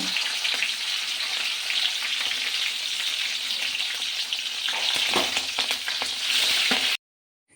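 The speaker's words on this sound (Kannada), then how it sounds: "ಇವಾಗ ಕಟ್ ಮಾಡಿದ್ದ ಹಸಿಮೆಣಸು ಹಾಯ್ಕೊಳ್ತಾ ಇದ್ದೆ" Chopped green chillies frying in oil over a medium flame for chitranna, with a loud, dense, crackling sizzle and occasional stirring scrapes, close up, cutting off abruptly near the end.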